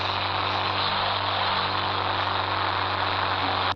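A motorbike engine idles in an Indian bike 3D video game, a steady, unchanging synthetic hum that holds evenly at moderate loudness before cutting off abruptly at the end.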